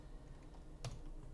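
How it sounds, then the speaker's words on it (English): A single keystroke taps on a computer keyboard during a word puzzle game, one short, faint click over a steady low room hum. "I was typing in the S because it has to start with an S"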